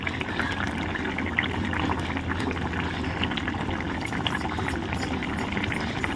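Fish curry simmering in a pot, a steady bubbling and gentle sizzle throughout, close and moderately loud with no talking.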